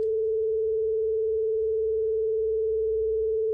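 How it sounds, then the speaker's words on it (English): Steady sine-oscillator tone frequency-modulated twenty times per second, giving a fast warbling wobble that holds one pitch level, sustained alone for several seconds with a faint low hum beneath. "it still sounds like the sine oscillator, but it has a warbling character to it"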